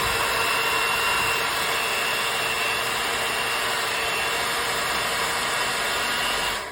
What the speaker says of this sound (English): So I'm gonna cut this back on and see if I can get it off just by giving it a little bit of power